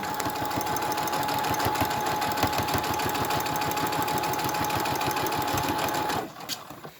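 A sewing machine stitches patio cushion fabric in a fast, even mechanical rhythm, running steadily and up close for about six seconds before stopping abruptly, leaving a few faint clicks.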